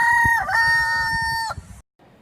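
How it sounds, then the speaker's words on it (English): A rooster gives one loud, close cock-a-doodle-doo, a long sustained crow that holds steady before cutting off abruptly, with no voices around it. "cock,"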